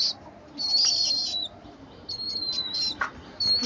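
Pet pigeons on a small farm give short repeated calls, three or four bursts in sequence, fairly close and clear over a quiet background.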